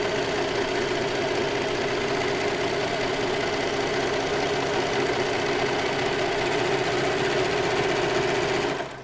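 A sewing machine run flat out in fast mode, a dense, steady, rapid mechanical whir that stays loud and even for about nine seconds before cutting off abruptly at the end.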